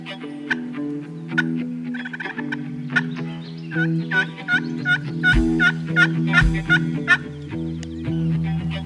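Wild turkeys gobble repeatedly in loud rolling bursts, several calls overlapping over a steady low background hum, with no talking.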